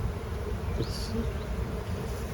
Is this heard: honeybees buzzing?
yes